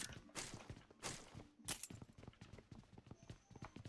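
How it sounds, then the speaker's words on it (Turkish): Character footsteps in the mobile shooter game PUBG Mobile, a rapid run of thuds and taps with scattered louder impacts, heard close amid game noise. "Geldi ayak sesi."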